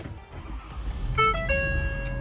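A Ford F350 King Ranch truck switching on, giving a short run of clear electronic chime tones stepping through a few pitches over a low interior hum, with no talk.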